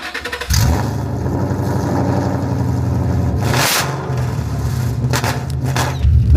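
A loud 420 hp Ford Mustang GT exhaust revs up close, a deep steady rumble holding for several seconds with a sharp blip near the end and no talk over it.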